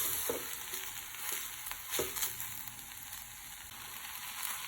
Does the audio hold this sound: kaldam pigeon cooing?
no